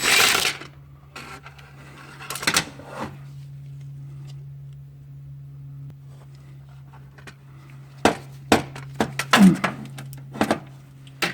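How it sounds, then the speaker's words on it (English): An impact wrench removes bolts from a 4R100 transmission on a Ford Super Duty V10 4x4. Short, sharp rattling bursts come at the start and in a cluster near the end over a faint steady hum, close, with no talking. "we're going to pull the bolts out. We've got our handy-dandy impactor."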